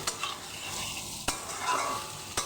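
Diced boiled potatoes and vegetables fry in a pan with a soft, continuous sizzle, broken by a few sharp scrapes and taps of a spatula stirring them.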